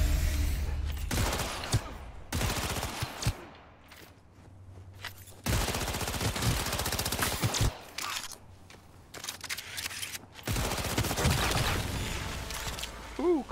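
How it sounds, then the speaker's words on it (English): Bursts of rapid gunfire in Cyberpunk 2077 crackle in several loud volleys separated by short quieter gaps, with sharp single shots between the bursts. "you can hear gunshots"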